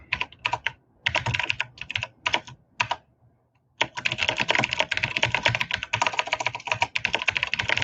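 Rapid typing on a computer keyboard while jotting down notes, a few short clattering bursts, then a pause, then a long continuous run of close, crisp keystrokes with no talking.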